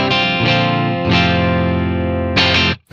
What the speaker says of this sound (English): Here's my clean sound on the bridge humbucker.